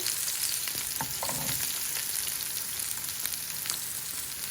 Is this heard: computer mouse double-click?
no